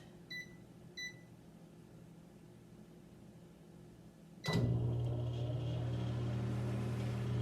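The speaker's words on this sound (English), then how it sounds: "So the bar soap is inside the microwave." Two short beeps, then a clunk as a microwave oven heating a bar of soap starts and settles into a steady, loud hum that continues to the end.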